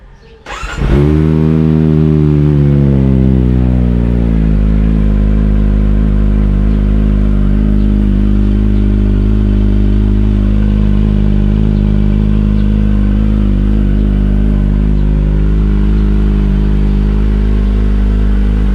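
A Kawasaki ZX-25R motorcycle cold-starts with no silencer fitted, catching into a loud, steady, raspy high idle that holds alone at close range for the whole stretch, engine tone settling slightly after the first few seconds.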